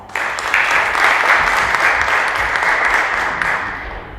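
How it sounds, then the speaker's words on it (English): Seminar audience breaks into brief, full applause lasting a few seconds, dense and even clapping in a hall before fading out. "So let's give him a round of applause."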